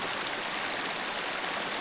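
A creek rushes and splashes as it flows beneath a railroad tunnel, a steady broadband watery roar heard on its own for a brief moment.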